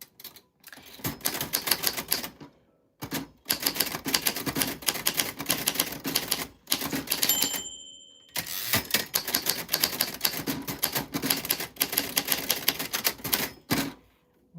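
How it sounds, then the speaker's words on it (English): A vintage 1949 Royal Arrow manual typewriter clatters through fast bursts of keystrokes with brief pauses and carriage-return dings, close and loud with no talking. "So it's a vintage typewriter and it's magic."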